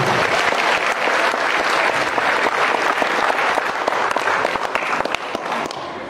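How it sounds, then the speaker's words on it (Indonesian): A crowd claps in a dense, sustained burst of applause that stays strong throughout before tapering slightly at the end. "Tepuk tangan buat kita semua."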